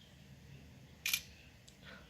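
A single crisp camera shutter click from a Lenovo K8 Plus phone taking a night photo with flash, short and sharp over a quiet hum, followed by a fainter trailing tick.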